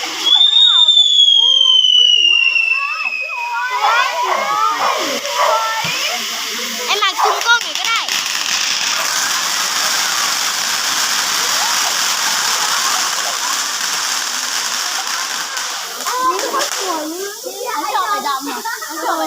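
Fireworks at a funeral ceremony whistle upward and crackle, with a long hissing, fizzing spray of sparks and scattered pops, loud and close, and a voice heard amid the noise.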